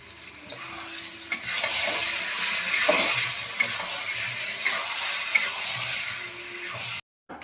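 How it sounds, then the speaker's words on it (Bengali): Meat for tarka sizzles steadily in a hot pan while being stirred, a loud continuous frying hiss with scraping stir accents throughout, alone without talk, cutting off abruptly at the end. "এবার আমি তড়কা করবো, তড়কার এই মাংসটা করছি।"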